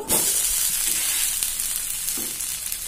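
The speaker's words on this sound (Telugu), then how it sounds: "2 వైపులా ఎర్రగా కాల్చుకోవాలి" Coconut dosa frying on a hot pan, a steady close sizzle and hiss with a couple of soft scraping touches, no voices.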